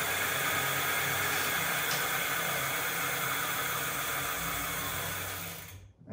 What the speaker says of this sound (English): I'll just kind of like put the back tire up and I'll give it throttle.